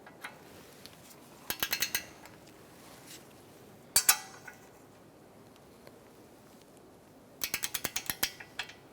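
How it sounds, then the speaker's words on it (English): Torque wrench clicking on a control arm ball joint bolt of a 2013-2022 Buick Encore, with short bursts of rapid ratcheting clicks at the start, a single sharp click pair in the middle and another quick run of clicks at the end over quiet background. "we're going to torque it to 26 foot-pounds"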